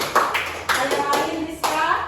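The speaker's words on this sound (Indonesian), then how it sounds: "Kasih aplaus semuanya" A classroom of students claps in short bursts, a few quick rounds of close, bright applause separated by brief pauses, with some voices around it.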